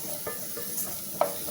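Beetroot chutney ingredients sautéing in a pan, with a steady soft sizzle and a few light scrapes of stirring, one slightly sharper knock near the end, close and fairly quiet.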